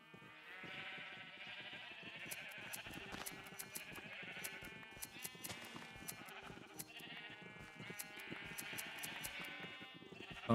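Sheep bleat repeatedly in a Minecraft-style video game, several overlapping calls coming close and fairly loud against a dense, busy game soundscape with no talking.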